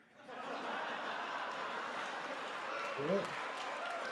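A crowd of Republicans applauding at the State of the Union address, steady distant clapping with a few chuckles under faint background talk.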